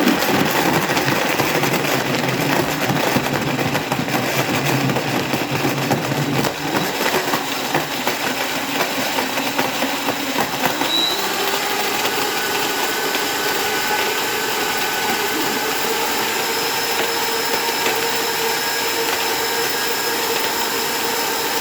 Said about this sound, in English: So we're just gonna blend this up for a minute. It might be a little loud,